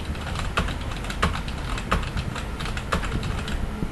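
Fast, irregular keystrokes on a computer keyboard while entering data into Microsoft Access, with crisp close-up clicks and a few louder key hits in an uneven rhythm.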